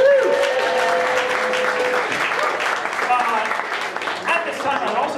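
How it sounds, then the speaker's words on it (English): Audience applause for season sponsors at an evening screening event, a steady wash of clapping from a room full of people that fills the whole stretch, with a voice and some whistle-like tones running beneath it. "Let's give them a round of applause."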